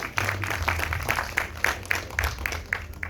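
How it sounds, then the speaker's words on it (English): A festival audience at a YouTube creators event in Ghana claps, a modest steady patter of applause with a few distinct louder claps, fairly close and without talk. "Round of applause for that."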